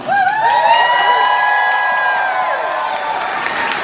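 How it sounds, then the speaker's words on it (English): An audience at a Final Fantasy fan event cheers and whoops loudly, with clapping beneath the shouting, fading slightly toward the end. "A massive round of applause for our guest lineup."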